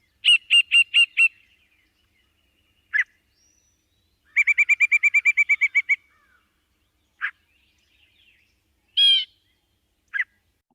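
A yellow-breasted chat sings in bursts of loud, varied calls separated by silences: a quick series of repeated notes, a longer rapid rattle, then scattered single harsh chirps and a whistled phrase.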